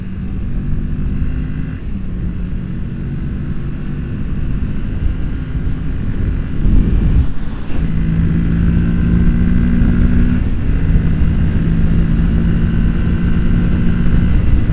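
A Kawasaki Z650 motorcycle engine drones loudly and continuously as it rides onto a highway, its pitch rising and dropping through gear shifts with steady wind rush underneath.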